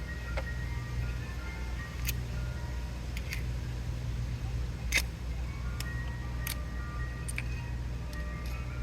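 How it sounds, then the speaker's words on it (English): An ice cream truck's chiming tune plays at a moderate distance, steady and faint, with a few sharp ticks and clicks from nearby work over a low background hum. "It's the ice cream man!"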